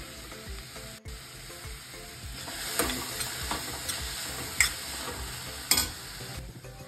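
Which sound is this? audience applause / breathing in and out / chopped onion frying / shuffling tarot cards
chopped onion frying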